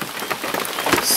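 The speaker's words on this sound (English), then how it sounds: "It rained all night, it's rained all day, and it's been pretty much just like this." Steady rain falling at an off-grid homestead, a dense, continuous hiss and patter of drops close by, with no voices.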